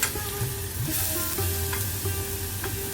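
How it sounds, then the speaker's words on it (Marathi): Grated beetroot is sautéed in a pan, with a continuous sizzle and soft stirring scrapes under a steady tonal hum. No voices are heard. "आणि जरा परतून घेते चांगलं पाच एक मिनटं असं मी परतून घेते"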